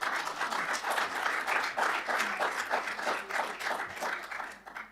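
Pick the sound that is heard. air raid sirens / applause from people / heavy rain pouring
applause from people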